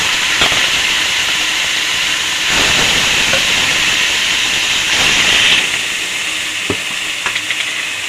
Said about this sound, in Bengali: এবার ফোড়নের মধ্যে বাটাটা দিয়ে দেবো।